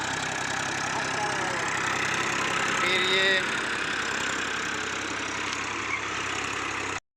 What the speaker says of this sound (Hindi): ये भाई साहब ट्रैक्टर चला रहे हैं खेत में, और ज़मीन जोतने का काम कर रहे हैं।